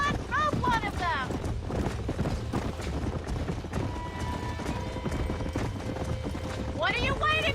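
Galloping horse hooves in the Western video game Red Dead Redemption drum steadily under game music and a neighing horse, while someone talks over the top throughout.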